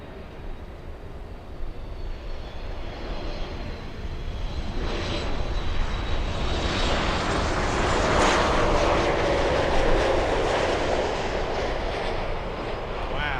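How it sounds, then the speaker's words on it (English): An Airbus A380 airliner approaching to land in Miami under dark cloud cover makes a broad, distant jet roar that slowly swells louder and nearer across the clip, with no voices over it. "The A380 is coming in from the north today."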